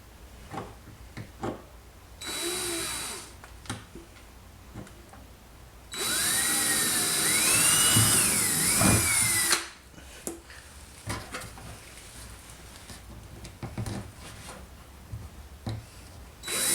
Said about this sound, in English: I'm just going to drill it, put it in, and we'll take some photos.